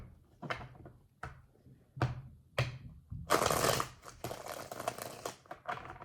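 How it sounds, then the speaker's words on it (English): Tarot cards being shuffled by hand, a few sharp separate snaps at first, then a longer burst of dense riffling and shuffling noise, close and fairly quiet with no talk. "They want me to shuffle for real."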